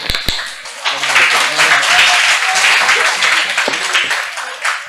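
A lecture audience claps together in a dense, sustained burst of many hands. A few sharp taps come first, and faint murmuring runs underneath.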